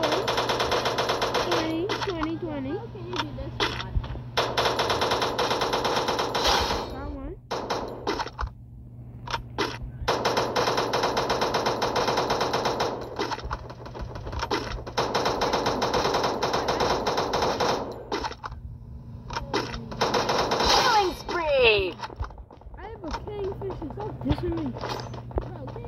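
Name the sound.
AK-47 gunfire in the video game Free Fire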